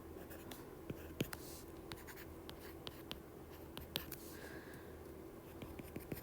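Marker strokes on a lecture board as a graph is drawn, a series of quiet, scratchy taps and short squeaks at an irregular rhythm, close by and with no talking over them.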